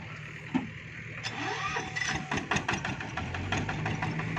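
A Thai farm truck carrying a load of sugarcane pulls away, its engine chugging and revving nearby with knocking pulses as it moves off, fairly loud and steady.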